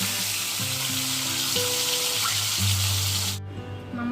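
Lote fish (Bombay duck) frying in a pan, a loud continuous sizzle with a few brief humming tones under it, dropping suddenly quieter near the end.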